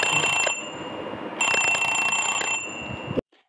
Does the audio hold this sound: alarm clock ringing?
yes